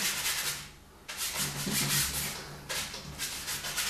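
Oil paint being rubbed into a waterfall painting, with hissy scrubbing strokes in two long bursts separated by short pauses, close up and without talk.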